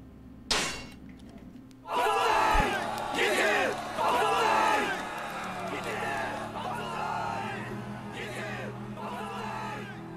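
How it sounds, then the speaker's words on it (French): A large crowd cheers and roars in a Dynasty Warriors 7 cutscene, a loud, sustained swell of shouting voices following a sharp metallic clang, with a steady low hum underneath. "où Kaopi est acclamé par la foule"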